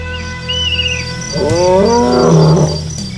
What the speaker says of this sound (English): when a lion roars, a ruler is born